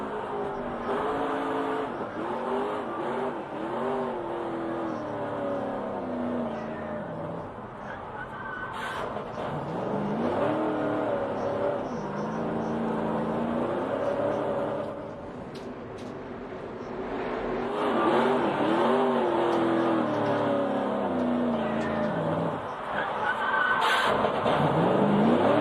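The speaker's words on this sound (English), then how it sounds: "Hear him working that throttle there, but when you're sliding like that, you're taking the rear tire off of it" A NASCAR stock car engine revs hard and fluctuates as the driver works the throttle while the car slides, with rising and falling harmonic engine tones over steady track noise, loud and close throughout.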